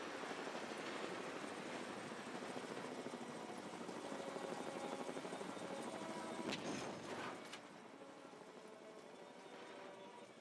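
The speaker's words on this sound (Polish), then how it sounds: "Wsiadł na pokład Havoka i właśnie startuje." A Havoc attack helicopter lifting off in Ghost Recon Advanced Warfighter 2, its rotor and turbine producing a steady, dense roar that holds loud throughout and eases slightly near the end.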